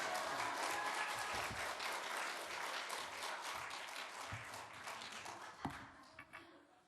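Sustained applause from a church revival congregation fills most of the stretch, dense and steady, thinning toward the end with a few louder individual claps.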